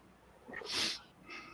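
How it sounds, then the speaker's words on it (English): A female dog gives one close, breathy snort while having her belly rubbed, a single short rough burst of air that swells and fades with a softer puff after it. "You hear her snorting?"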